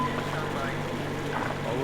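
A boat engine running in the video game Metro Exodus, a steady low motor hum with water churning beneath, while voices speak over it.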